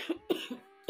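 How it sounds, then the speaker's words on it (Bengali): A person with a persistent cough lets out a quick run of three short, close coughs with brief gaps between them, with no talking. "এত কাশি হচ্ছে আর ভালো লাগছে না কিছু"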